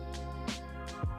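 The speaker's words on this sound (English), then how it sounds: "That is my dog snoring." A dog snoring loudly nearby indoors, with slow, breathy rumbling snores repeating about every half second and no talking.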